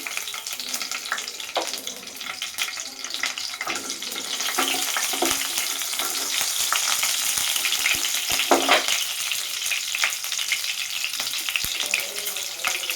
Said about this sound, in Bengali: তেলটা গরম হয়ে গেছে এবার কিছু পরিমাণে কাঁচা লঙ্কা দিয়ে দিলাম